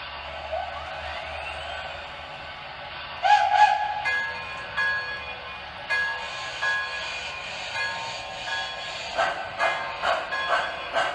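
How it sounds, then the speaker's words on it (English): Model Walt Disney World Railroad locomotive No. 5 running on track, with a faint mechanical whir, a brief whistle-like tone and repeated light clicking and clattering bursts close by. "So, let me show you the locomotive."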